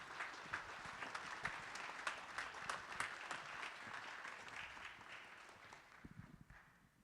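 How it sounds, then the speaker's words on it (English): A city council chamber audience at a Ward 4 swearing-in ceremony gives a steady round of applause, faint and somewhat distant, with dense clapping that gradually tapers and breaks into scattered final claps. "Let's give them one more round of applause for all they've done."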